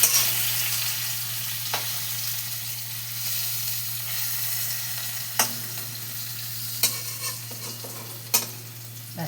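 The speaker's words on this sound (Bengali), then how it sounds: "একটুখানি ভেজে নেবো কচুগুলো।" Taro pieces fry in hot oil in a pan with a soft, continuous sizzle, broken by a few sharp clinks of a spatula stirring them, quiet and close with no talking.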